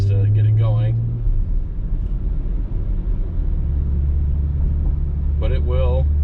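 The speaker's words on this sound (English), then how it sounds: "I hit the gas, and I'll speed up a little bit just to get it going." 2019 Audi RS5 gaining speed on a road, a low steady engine and tyre rumble from inside the cabin that builds gradually, with someone talking over it at the start and end.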